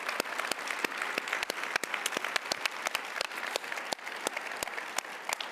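An audience at a congress closing keynote gives sustained applause, dense, even clapping that fills the hall without a break.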